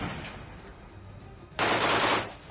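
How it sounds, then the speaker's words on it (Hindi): Machine gun fire near the Azovstal steel plant in Ukraine, a sustained loud burst of rapid shots arriving after a quieter stretch of distant noise, then tapering off. "वो रुक रुक कर जोरदार फायरिंग करता रहा"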